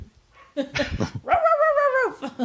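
A dog lets out a short growl followed by a drawn-out, howling bark, loud and close.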